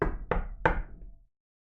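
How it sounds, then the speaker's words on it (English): Three sharp knocks rap on a pane of glass, close and distinct, about a third of a second apart, then the room falls silent. "You hear a knock on the glass."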